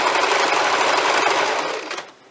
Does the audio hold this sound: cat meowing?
no